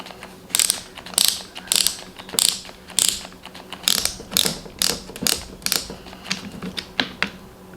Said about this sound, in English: I was able to get the gear selector to turn just by spinning the chuck a little bit